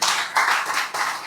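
An audience at a motivational training seminar claps in a quick burst, the sound swelling and dipping in a couple of waves of close, crisp handclaps with no talking over it.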